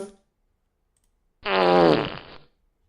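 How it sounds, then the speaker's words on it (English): A free fart sound effect from Pixabay, a single loud, drawn-out blast of about one second with a rippling, buzzy tone, standing alone after brief silence. "Pixabay fart sound"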